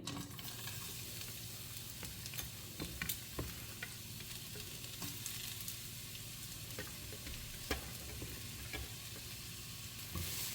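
Garlic frying in ghee in a pan sizzles steadily while a spoon stirs it, with scattered scraping clicks over a constant crackling hiss and no talk.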